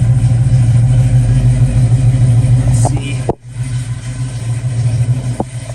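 Rebuilt 1969 Camaro 454 V8 with a six-speed manual running cold, a loud, close, lumpy idle with a brief dip midway and slight revving, no talk.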